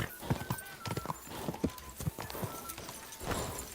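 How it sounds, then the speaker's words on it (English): Horse hooves galloping in the medieval game Kingdom Come: Deliverance, a steady run of close clip-clop beats with a brief whinny, while faint game ambience sits underneath. "Vai, cavalo."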